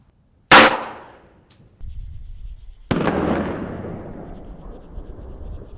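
A fat bullet strikes a full beer keg. A sharp, loud gunshot crack is followed by a short fading ring, then a second loud metallic bang that decays slowly, outdoors.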